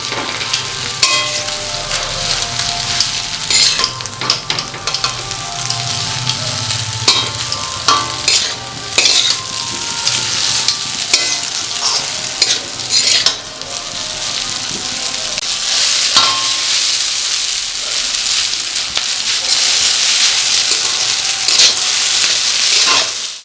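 Chowmein noodles being stirred and tossed in a hot pan for a vegetable egg noodle dish, with a steady loud sizzle and repeated scraping, clattering utensil strokes throughout, no voices.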